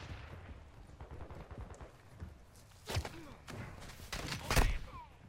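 Gunfire in the video game Call of Duty Modern Warfare II: several sharp shots crack out near the three-second mark and again around four and a half seconds, set over a busy low rumble of in-game battlefield ambience.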